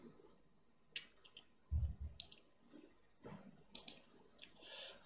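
Scattered soft clicks of computer keyboard typing, brief irregular taps with short pauses between them, faint and close with no talk.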